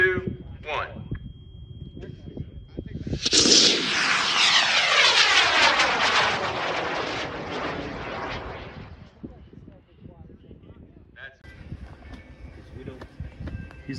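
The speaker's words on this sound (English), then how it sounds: "It is a 40-pound rocket, and it's shooting on a research motor called Wayside White" A 40-pound high-power model rocket on an L1150 research motor ignites with a sudden roaring blast at a rocket launch, thundering loudly for several seconds and fading as it climbs away, with people talking faintly around it.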